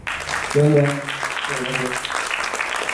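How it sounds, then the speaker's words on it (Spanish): An audience applauds after a Spanish-language talk on Tupac Shakur and Black Power, with steady clapping throughout and a couple of short voices rising over it. "Un aplauso, por favor."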